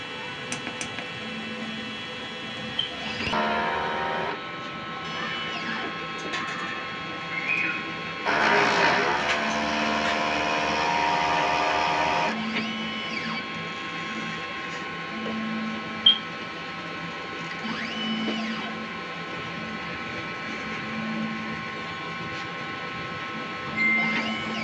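An inkjet printer runs a print-head cleaning cycle: a low mechanical hum with bursts of whirring motor and pump noise, soft ticks and a louder grinding stretch midway, while a person talks intermittently nearby.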